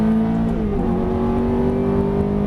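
A Ferrari F430 accelerates on throttle with a loud, steady engine note from inside the car, its pitch climbing slightly with one brief dip partway through.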